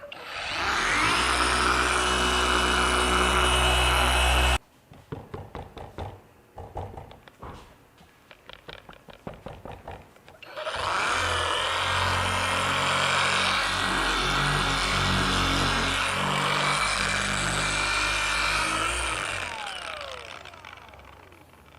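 A Kobalt 24V brushless 6-inch orbital polisher runs on a car body panel, a steady loud whirring drone that drops out briefly into uneven, sputtering bursts before resuming at full power for the rest of the time.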